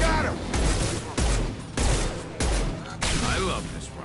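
Rifle fire from the video game Mass Effect 2, with five heavy, sharp shots at roughly even intervals, each ringing out loud and close over a busy game soundscape and some voice.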